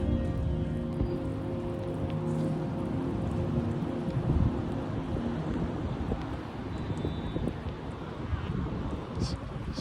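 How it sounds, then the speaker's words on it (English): Heavy rain pouring outdoors onto a rooftop, a dense, steady hiss and patter running unbroken throughout with a low rumbling undertone, loud and close, with no voices. "it is pouring rain"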